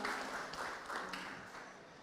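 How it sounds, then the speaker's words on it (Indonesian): Audience at an Islamic boarding school gathering claps in a brief, faint round of applause, a dense patter of hands lasting about two seconds. "Luar biasa sekali, tepuk tangan dulu dong."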